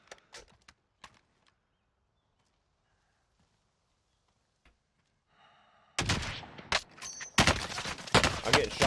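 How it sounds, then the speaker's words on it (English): Gunfire in the Call of Duty: Warzone battle royale game, starting with a few sparse distant shots, then a loud dense burst of rapid automatic fire and impacts in the last few seconds. "I'm getting shot by someone else"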